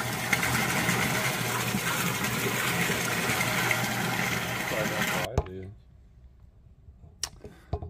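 A Vevor 115-volt, 24 GPM, 1.5 horsepower well pump runs steadily with a loud, constant mechanical hum for about five seconds, then cuts off abruptly, leaving near quiet broken by a few faint clicks.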